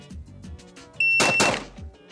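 A shot timer gives a short, sharp electronic start beep, followed almost at once by two quick, loud pistol shots fired in close succession.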